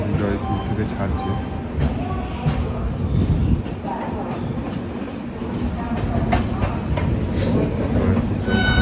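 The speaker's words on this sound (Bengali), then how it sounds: "ট্রেন অবশেষে জয়পুর থেকে ছাড়ছে" A passenger train pulls out of Jaipur Junction with a steady low rumble of rail cars and faint rhythmic wheel clatter. It stays loud and continuous throughout, and muffled voices are mixed into the noise.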